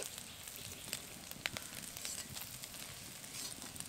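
Small shrimp fry in mustard oil with a faint, continuous crackling sizzle, dotted with a few sharper pops, quiet and close with no voices.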